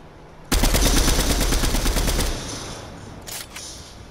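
Rapid automatic gunfire in Fortnite, a loud sustained burst of evenly spaced shots lasting about two seconds, followed by quieter game ambience and a brief faint second burst.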